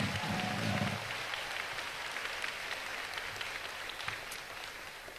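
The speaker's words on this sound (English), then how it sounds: "Give them a round of applause." A graduation ceremony audience at a high school applauds in a hall, a dense steady clapping that swells briefly at the start and then holds at a moderate level, with a few louder individual claps near the end.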